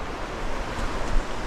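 Sea waves at the shore in Quezon, a loud, continuous surf roar mixed with wind buffeting the microphone, with no voices.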